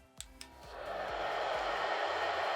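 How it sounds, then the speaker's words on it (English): A couple of clicks, then a steady, loud whooshing hair dryer blows continuously at close range. "I'm going to grab my hair dryer here,"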